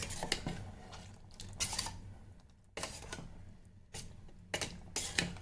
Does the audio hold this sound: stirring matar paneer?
yes